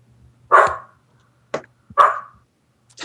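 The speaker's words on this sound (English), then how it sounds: "My dogs apparently agree with you." Several household dogs barking during a live podcast recording, with two loud close barks and a short sharper yip between them over quiet room hum.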